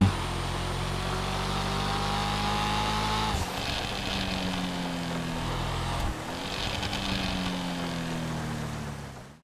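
The Veriera car engine in GTA Online revs up through its range, then drops into crackling overrun as the throttle lifts, rising again and falling off a second time, loud and close.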